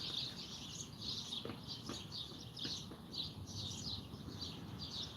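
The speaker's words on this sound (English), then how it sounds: "there's quite a few birds around here" Birds chirp and tweet steadily at a park along Railroad Avenue in Willcox, a dense chorus of repeated high calls over low outdoor background rumble, with no talking.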